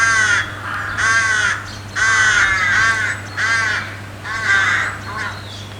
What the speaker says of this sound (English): If you like to be woken up about 5 in the morning by crows.